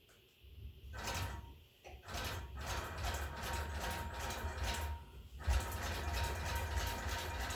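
A longarm quilting machine runs basting stitches across a quilt, giving a steady mechanical whirring and rattling with brief pauses and restarts as the head changes direction.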